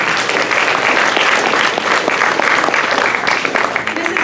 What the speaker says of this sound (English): If nothing else, we have to clap for that.